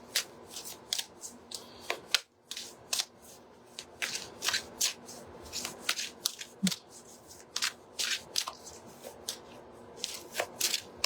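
A deck of cards shuffled by hand for a psychic card reading, close and crisp riffles and snaps in uneven bursts, alone with no talking.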